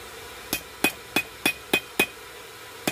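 Hammer strikes on the welded area of a hand-forged blacksmith knife, seven sharp, ringing metallic blows at a steady, even rhythm, close and loud with no talk.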